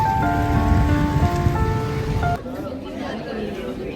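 Steady rain pours on a surface, loud and continuous, then quieter after a sudden drop midway, with faint tonal hum and chatter in the background.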